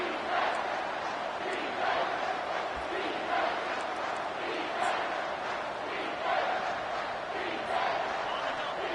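Home crowd in the NCAA 25 college football video game roaring steadily through a third-down defensive stand, a dense continuous stadium cheer with rhythmic swells.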